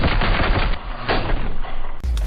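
Loud, close full-auto gunfire from a Call of Duty match rattles on continuously in a dense stream, with a brief dip before a final burst.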